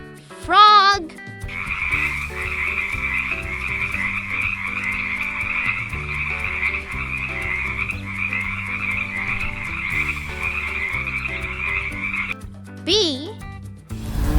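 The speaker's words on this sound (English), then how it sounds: "Frog." A frog croaks in a steady, rapid pulsing trill that runs continuously for over ten seconds, loud and close, with brief electronic chime-like tones at the start and end.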